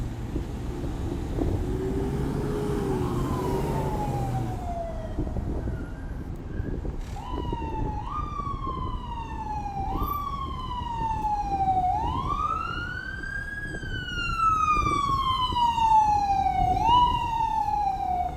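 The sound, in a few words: emergency vehicle sirens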